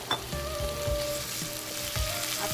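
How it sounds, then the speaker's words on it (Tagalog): Ground turkey sizzling in a pan with garlic and onion, a continuous close frying hiss with a few soft stirring knocks and clinks. "Nilalagay na po natin itong ating turkey."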